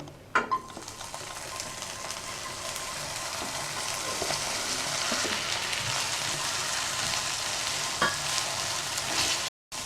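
Okra for a Kerala vendakka kichadi fries in oil over a low flame, producing a dense, even hiss that stays level throughout, with a few faint clicks and a brief cut near the end.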